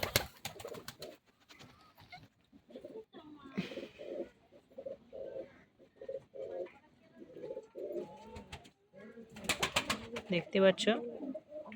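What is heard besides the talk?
pigeons cooing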